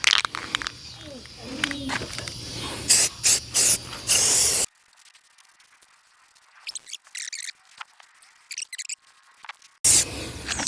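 Spray can applying a light coat of finish to a window during a barn window rehab, short loud bursts of hissing spray with near-silent gaps and small handling clicks in between.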